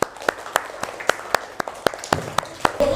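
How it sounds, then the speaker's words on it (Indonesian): Pupils in a classroom clap for a classmate, a sparse run of close, individual hand claps with a rhythmic feel, ending as a voice begins. "Kasih tepuk tangan untuk Fabian"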